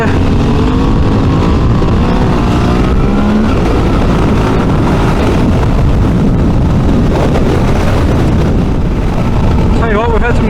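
A V-Strom 650 or Tiger 800 motorcycle accelerates hard with a loud, continuous engine roar thick with wind buffeting, while a rider talks over it.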